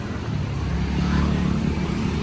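Steady road traffic near a busy street before a metro station: a continuous low rumble of passing cars and vehicles at moderate distance, with no talk.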